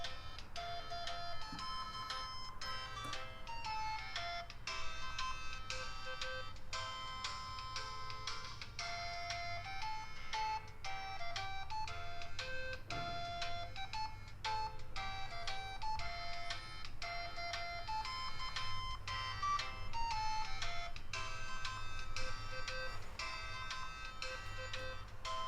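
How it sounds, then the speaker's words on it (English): Built-in stock music plays through the small speaker of a Microsoft XDA Atom Life Windows Mobile phone, a bright, tinny electronic melody with steady beeping tones, continuous and moderately loud for about twenty-five seconds. "That was one of the stock musics on this phone."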